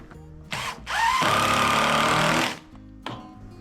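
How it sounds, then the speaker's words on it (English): A power drill drives a screw into a wooden trim board: a short burst, then a loud sustained whirring run lasting over a second that winds down, followed by a brief final tap of the trigger, close and alone. "Couple of screws in each one, that'll hold them."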